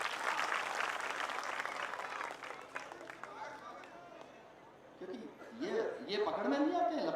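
Broad, dense clapping from an audience at a live Hindi poetry recital during a Ganesh festival fills the first few seconds, fading as louder chatter and laughter rise toward the end.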